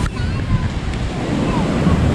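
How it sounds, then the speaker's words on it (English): A big waterfall at Paronella Park gives a loud, continuous roaring rush of falling water outdoors, steady from start to finish, with a faint hint of a voice underneath. "Big waterfall there."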